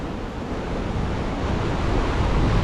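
Monsoon sea waves break and wash along the Kollam shore in a steady, loud roar of surf that swells slightly toward the end, with wind buffeting the microphone and no voices.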